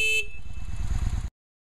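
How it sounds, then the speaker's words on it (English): The stock horn of a 2003 750 Ace motorcycle gives one short, close, steady beep that is cut off abruptly, with the engine idling underneath. "Let's start the bike and see what the stock horn sounds like."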